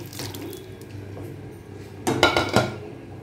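Sautéed bitter gourd tipped into a pan of pitlai with a cluster of clattering scrapes and light wet splashes, loudest near the end, after a quieter stretch of soft kitchen handling.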